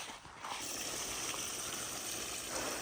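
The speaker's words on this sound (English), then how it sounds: "I see water splashing." Continuous rushing well water splashing and gushing close by while filling a pool, a steady broadband wash with slight surges, no voices.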